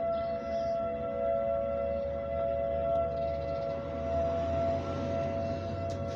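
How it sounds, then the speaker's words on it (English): Tornado warning sirens sounding in the distance during a tornado watch, a steady sustained tone over a constant low outdoor rumble. "we've got tornado sirens going off here."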